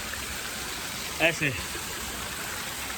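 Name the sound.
waterfall flowing beside a temple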